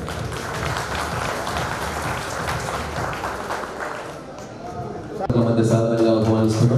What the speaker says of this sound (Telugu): చెప్పట్లు ఆగకూడదు ప్లీజ్.